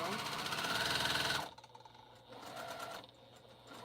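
A sewing machine stitches quilt pieces together for an African map quilt, a fast steady mechanical whirring run for about a second and a half before stopping, leaving quieter room sounds.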